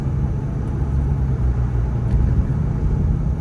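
Steady low engine rumble and road noise from a car cruising on a mountain road trip, a constant close drone that fills the interior without pause.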